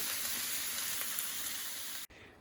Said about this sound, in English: the meat is browning nicely